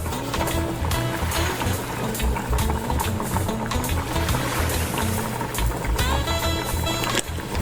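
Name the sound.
rice boiling in a pot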